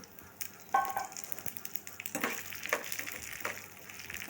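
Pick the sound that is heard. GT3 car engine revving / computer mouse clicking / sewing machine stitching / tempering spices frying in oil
tempering spices frying in oil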